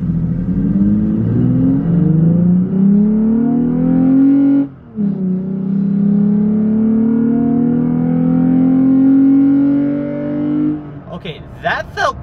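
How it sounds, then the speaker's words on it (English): A lifted 2020 Toyota Tacoma in ECT Power mode accelerates hard from a stop with a loud, close engine roar that rises in pitch through the gears. There is one brief gap at a shift, then it levels off and trails into a short clatter. "we're gonna pull up in and stop and do our 0-60 on ETC power"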